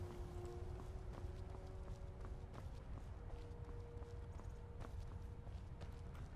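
Horse hooves clip-clop steadily while pulling a wagon in Skyrim, a faint, even rhythm of hoofbeats under quiet ambient background noise, with no speech.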